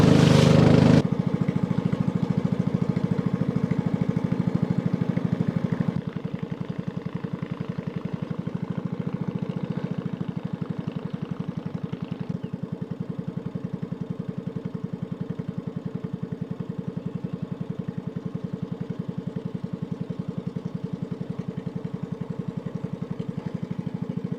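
A boat engine on a lake in Thale Noi, Thailand drones steadily, a loud continuous rumble with a louder burst at the start before settling into an even running tone.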